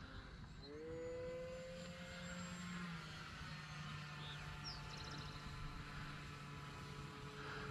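An E-flite Cirrus SR22T electric RC airplane on a 4S battery flies at about three-quarter throttle, its propeller giving a faint, steady droning whine that shifts slightly in pitch, heard from a distance with no talking.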